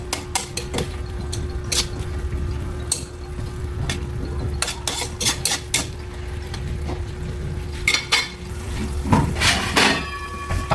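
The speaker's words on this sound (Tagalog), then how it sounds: "At haluin lang po natin." A spoon scrapes and clinks against a pan while sweet-sour escabeche sauce with sugar, for fried fish and carrots, is stirred. Irregular metallic taps and scrapes over a steady low kitchen hum, no talking.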